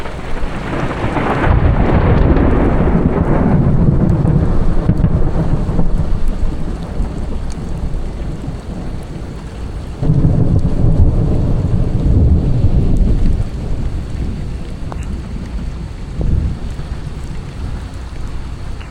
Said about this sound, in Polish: zaczyna tak nawalać deszczem